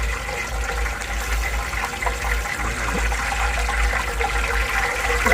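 Hot oil ladled over pork tail frying in a pan, a steady loud sizzling and bubbling hiss with gushing pours, continuous and close throughout.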